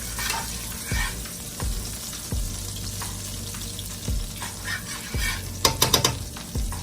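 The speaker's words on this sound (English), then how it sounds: "I'm gonna stir this around just so that what was in there doesn't burn" Tuscan smothered pork chops stirred in a hot sizzling pan, with steady frying hiss broken by regular scraping strokes of a utensil and a few sharp clinks near the end, no talking.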